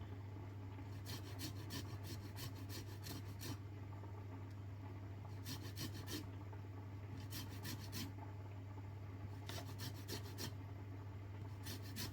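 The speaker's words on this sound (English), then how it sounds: "I'm just going to zest the lime." Lime rind scraped with a hand zester, repeated bursts of soft rasping strokes in short rhythmic groups, quiet and close over a steady low background hum.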